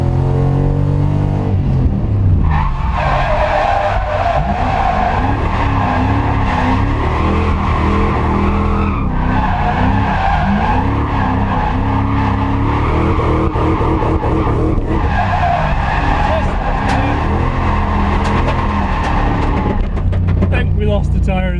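A Lexus IS200 with a 1UZ V8 swap drifting: the engine roars loud and sustained while tyres squeal and skid continuously, the pitch rising and falling as the car slides, with brief voices mixed in.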